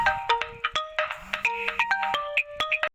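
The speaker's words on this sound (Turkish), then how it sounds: "Telefon çaldı." A mobile phone ringtone plays on a bicycle trip, a quick electronic melody of short repeating tones in a bouncy rhythm, fairly faint and with no talk over it.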